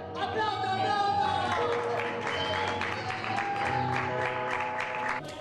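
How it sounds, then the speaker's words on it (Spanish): An audience applauds at a theatre show, with dense, sustained clapping mixed with crowd noise and steady tonal music underneath, all fairly loud before it cuts off near the end. "¡Aplauso, aplauso!"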